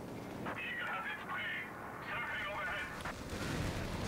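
Grenade and artillery-like blasts rumble through a Company of Heroes 3 match on the Semois map, played on the 1.5 patch, rising under a continuous commentator voice with a sharper burst near the end.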